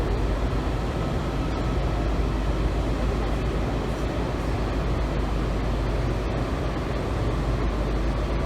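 Steady interior rumble of a Washington Metro Kawasaki 7000-series train in motion, a broad unbroken roar of wheels and motors that holds constant throughout, with no talking.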